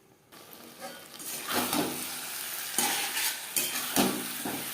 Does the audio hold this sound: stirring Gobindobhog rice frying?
yes